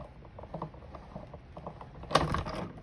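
A Big Shot embossing machine is cranked by hand, giving a steady low mechanical grinding and clicking that ends in a louder clunk near the end, heard up close with no talking.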